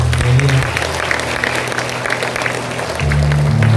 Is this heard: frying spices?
no